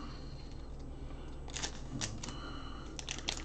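Scissors snip open a small three-card trading card pack, making a few quick, crisp cuts and crinkles close up in a quiet room.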